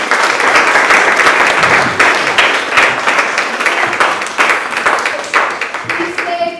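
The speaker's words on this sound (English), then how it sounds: "Round of applause for Frank." An audience applauds after a historical society talk on Easton cemeteries, clapping loud and dense at first and thinning toward the end, with a few voices mixed in.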